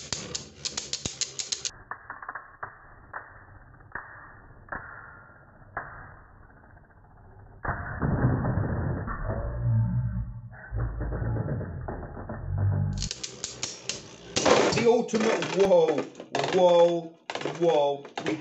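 Beyblade spinning tops launched with ratcheting launchers and clashing in a stadium: sharp mechanical ratchet clicks, then buzzing whirring spins and hard collision clatter, with excited voices talking throughout.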